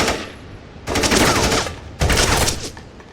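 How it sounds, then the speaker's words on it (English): An automatic rifle fires in loud, rapid bursts: two sustained volleys of close gunfire follow a quieter rattle, each burst harsh and dense. "You got a license for that automatic rifle, Mr. Washington?"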